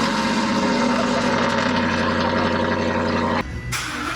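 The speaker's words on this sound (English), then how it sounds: "And that extra noise you're hearing, guys, one, it's a supercharger, and second, it's the Howe power steering pump." A Gen1 Ford Raptor idles close by with a supercharger whine and a louder-than-usual Howe power steering pump, a steady low rumble layered with tonal whirring that drops briefly near the end.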